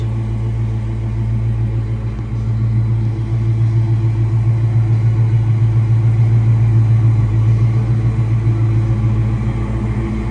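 A Ford 5.0 HO 302 small-block V8 in a 1988 Mustang GT idles steadily up close, a deep, loud, even rumble with a lumpy low throb and no talking.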